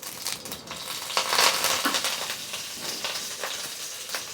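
Curry leaves drop into hot oil with popped mustard and cumin seeds in a home kitchen, a crackling sizzle that bursts louder near the start, then settles into steady spattering and faint stirring.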